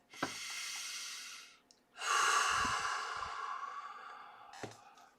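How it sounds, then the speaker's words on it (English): Two long, deep breaths close by, a slow airy inhale and then a longer drawn-out exhale, each whooshing out and fading, with a short sniff at the start and a brief soft catch near the end. "Deep breath in, deep breath out."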